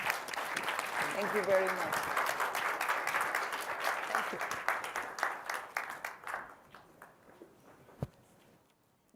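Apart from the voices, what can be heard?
audience applause for panelists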